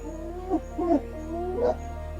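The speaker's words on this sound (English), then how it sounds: "After every successful hunt, wild dogs must eat as fast as possible before spotted hyenas or lions hear the commotion and arrive to steal." African wild dogs feeding at a fresh kill: several high whimpering yips and short twittering calls, close and fairly quiet over a low steady background hum.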